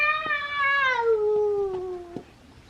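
A countryside yard cat lets out a long, drawn-out meow that slides downward in pitch, loud and close with little else around it.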